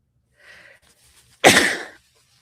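A single loud, sharp sneeze bursts out close by after a faint breathy intake, then trails off into quiet.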